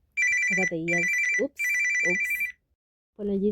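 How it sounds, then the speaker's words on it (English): A phone rings loudly in repeated bursts with short gaps, a ringtone cutting in between and over a person talking nearby. "that was my phone"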